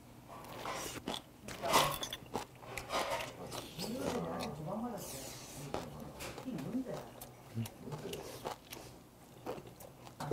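Dried monkfish bones crunch while being chewed during a meal, giving scattered sharp, close crisp cracks among softer chewing noises, with a person talking in between.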